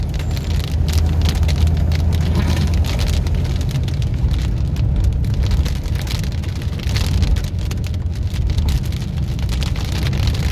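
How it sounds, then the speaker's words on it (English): Steady storm rain drumming on a car while driving, with a constant low rumble of the car underneath, no voices. "it's beginning to rain now"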